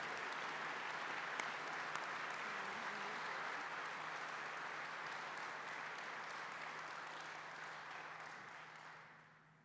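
Audience at an opening and closing ceremony applauding, a long, even wash of many hands clapping from a distance that holds steady before tapering off at the end.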